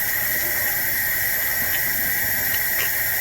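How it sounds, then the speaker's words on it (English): Tap water runs steadily into a sink while bok choy leaves are washed and lifted under the stream, a constant close hiss and splash with faint brief knocks, no speech. "I am going to do another wash, kind of lifting the leaves to get water in there."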